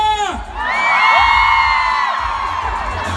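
A concert crowd of girls in Fergana shouting and cheering, a loud sustained mass of high-pitched whoops and screams close by that swells and holds for about three seconds.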